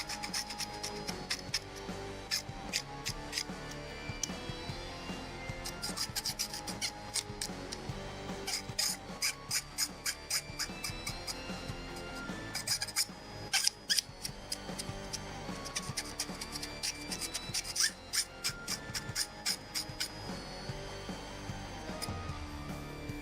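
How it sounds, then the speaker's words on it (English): Hand scraping and rubbing at a plastic part from a 1/72 HG Bandai Aura Battler Dunbine model kit, a steady run of close, scratchy strokes and small ticking clicks with no talk. "I'll have to scrape off the plastic"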